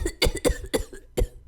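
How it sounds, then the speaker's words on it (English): Five sharp, wet coughs from one person, close to the microphone, coming in quick succession and then a final cough after a short pause, with no talk. "I cough like a toddler"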